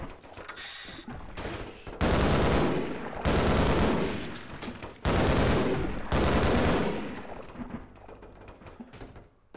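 Sniper rifle gunfire in a video game: four heavy, loud shots spaced about a second or more apart, each with a long decaying echo and mechanical clatter between them.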